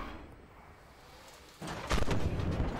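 In the game Armored Warfare, after a quiet low rumble, an Object 155 tank's heavy cannon shot booms out, loud and close, followed by a rolling echo and rumbling tail.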